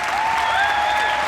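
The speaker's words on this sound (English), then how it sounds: "A lot of applause for that one because I forgot to turn off the recording." Steady audience applause that is loud and close, a dense wash of clapping with no gaps or speech.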